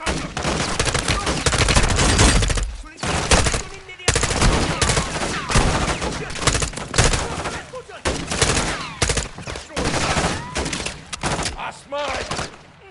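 Heavy automatic gunfire rattles in Call of Duty Modern Warfare 3, loud sustained bursts of close rifle fire with brief gaps between volleys during an outdoor firefight, under occasional shouted voices.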